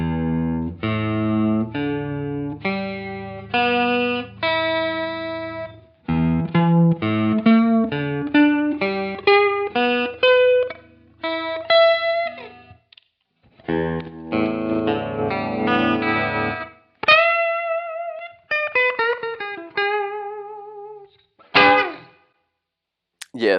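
Homemade plywood guitar with a set-in neck, played in a run of plucked notes and chords that ring slightly out of tune, with effects giving a chorused, distorted edge and short pauses between phrases.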